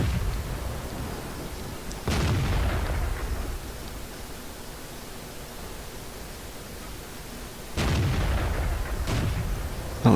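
Two loud, booming StuG III tank gun shots from World of Tanks ring out several seconds apart, each a sharp blast with a rumbling decay, over a steady low background hum.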